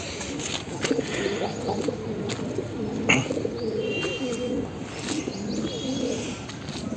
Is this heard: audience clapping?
no